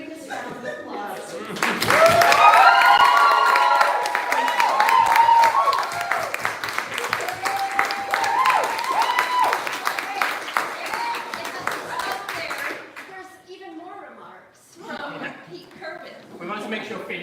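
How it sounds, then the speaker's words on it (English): Audience applause at an award reception, loud sustained clapping with cheers and laughter that swells and then tapers, followed by speech and scattered claps. "The biggest round of applause."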